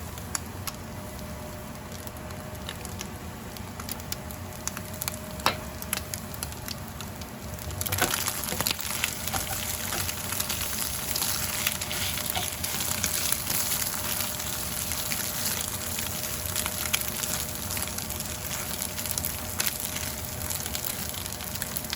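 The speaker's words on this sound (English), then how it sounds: "the eggs are almost done" Eggs frying in a pan with salt and pepper, a steady crackling sizzle throughout that grows denser and louder partway through, with no talking.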